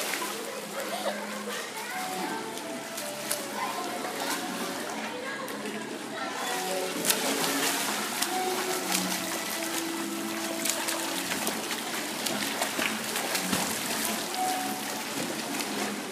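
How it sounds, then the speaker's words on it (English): Splashing and trickling water in a swimming pool during team routine swim practice, continuous busy wash of water sound with children's voices and shouting throughout. "all I heard was a big splash"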